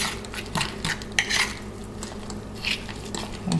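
Deviled egg filling is stirred in a bowl with a utensil, close soft scraping and clinking strokes repeating in an uneven rhythm, with no talking.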